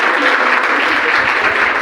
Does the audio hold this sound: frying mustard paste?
no